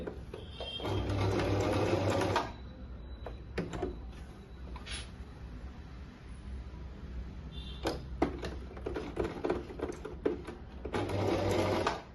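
A Singer Promise sewing machine stitches on a button in bursts. Loud close mechanical whirring opens and closes the stretch, with quieter clicks and handling between, and no voice over it.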